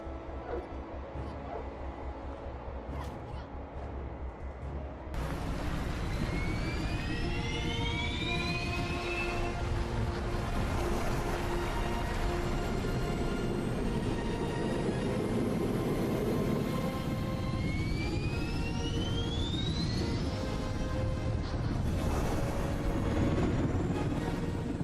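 An aircraft coming in to land during a LEGO Marvel's Avengers video game cutscene: a loud, continuous engine roar swells in suddenly with rising whines, and voices are heard over it.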